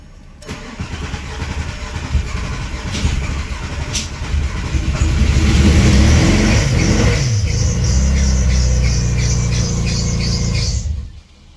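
A built four-cylinder car engine cranks, catches and runs roughly, then revs up loud and close for several seconds with an uneven, off-timed note before cutting out abruptly near the end.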